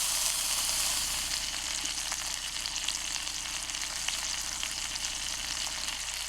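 Meat searing over an oak-log campfire, a loud steady sizzle and crackle of frying fat running continuously without pause.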